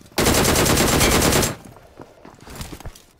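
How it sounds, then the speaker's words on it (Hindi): Rapid automatic gunfire from a battle royale video game erupts as a loud, dense sustained burst for over a second, then drops to scattered, fainter shots and clatter. "राइट साइड से मेरे पे फायर आया"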